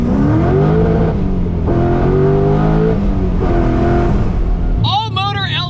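A Nissan 300ZX Z31 fitted with an LS V8 roars loudly nearby, its engine note climbing through repeated rising pulls before a sharp change near the end, with a voice briefly over it.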